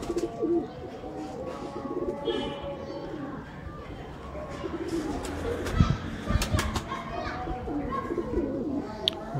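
79-breed pigeons, red with pearl eyes, cooing repeatedly in soft throaty rolls, close by, with occasional wing flaps and people talking in the background.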